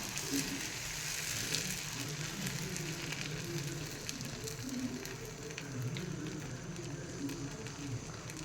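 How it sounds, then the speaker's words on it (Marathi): Instant uttapam batter sizzles steadily on a hot pan, a soft, even crackle and hiss that carries on without a break and stays fairly quiet. "पॅन तापलेला आहे आता त्याच्यावर ना आपण उत्तप्पा घालायला सुरुवात करूया"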